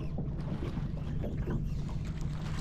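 Fishing boat outboard motor running steadily on a river during a jig-head fishing trip, a continuous low engine drone mixed with water and wind noise, close and fairly loud, with no voices.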